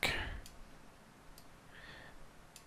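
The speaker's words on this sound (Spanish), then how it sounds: "Le doy clic" A mouse button clicking at a computer during a manual tracing tutorial: one sharp, close click at the start, then a few faint ticks spread out across an otherwise quiet room.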